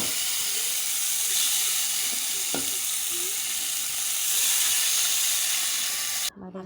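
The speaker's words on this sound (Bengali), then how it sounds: "বাকি মাছগুলো দিয়ে দেবো একটা একটা করে।" Pieces of fish frying in hot oil in a pan, a loud, continuous hissing sizzle with a single sharp knock partway through before the sound abruptly drops away at the end.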